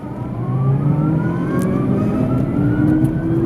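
A 2011 Wheego LiFe electric car accelerating hard from a start, a steady drive whine rising gradually in pitch over a continuous road rumble, close and fairly loud.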